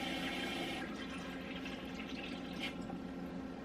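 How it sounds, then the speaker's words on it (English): Water pours into a pot for cooking rice, producing a faint, continuous splashing and trickling fill that carries on alone for a few seconds. "I'm just going to put 3 cups of water in here for the rice and let that be"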